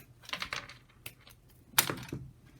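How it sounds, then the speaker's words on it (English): Paper being trimmed for a handmade card, a few close, quick snipping and rustling bursts with a crisp sharper cut near the end, quiet and without talk. "trim these off."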